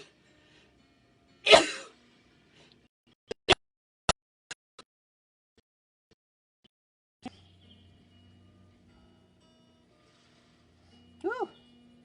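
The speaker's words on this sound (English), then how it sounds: "Oh, I'm going to sneeze." A single loud sneeze up close, followed by a few sharp clicks and faint room noise, with a short quiet voice near the end.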